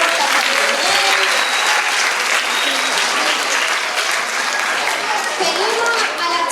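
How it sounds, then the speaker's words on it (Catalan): An audience at a school play claps in loud, sustained applause, dense and continuous, with a few voices mixed in. "un fort aplaudiment."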